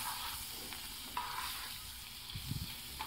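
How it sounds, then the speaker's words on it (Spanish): Butter melts over very low heat in a pan, giving a faint, steady sizzle with a few soft stirring scrapes toward the end. "vamos a agregar la mantequilla. La vamos a dejar a fuego muy lento. Vamos a esperar a que se derrita"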